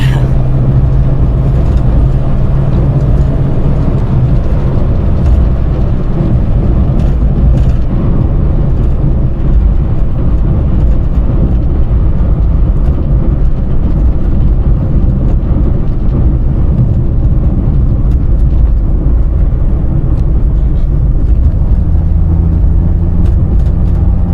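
A 1996 Škoda Felicia 1.3 MPI with a 50 kW, 68 HP engine drives on the road and overtakes, heard from inside as a loud, constant engine drone and road rumble with no talking.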